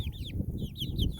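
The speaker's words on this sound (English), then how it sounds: "What I have inside the coop right now is I have got the Rhode Island Red and a Silver Lace Wyandotte." Rhode Island Red and Silver Lace Wyandotte hens cluck inside a coop in a short, close burst of soft clucks over low rumble.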